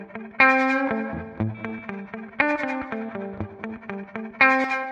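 Guitar chords through a reverb pedal with its modulation turned fully up ring out with a wobbling, pitch-drifting wash, each strum repeating about every two seconds and blooming into a dense tail.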